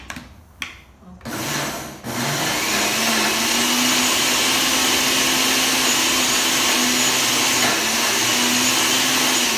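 A food processor motor whirs loudly and continuously after a few short pulses, churning hummus with a rough, grinding, chugging texture.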